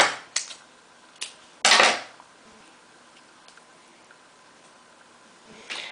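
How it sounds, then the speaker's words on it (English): Scissors snip a yarn end on a knitted hat, giving a few sharp close clicks, one a bit longer and louder, then quiet apart from a faint snip near the end. "Going to snip."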